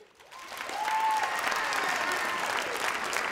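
Audience at an award ceremony breaking into applause, quickly swelling into sustained clapping that holds steady, with brief cheering at the start.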